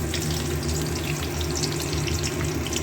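Onions with green chillies and chopped garlic fry in a pan, a continuous close sizzle with soft crackling and a low rumble beneath.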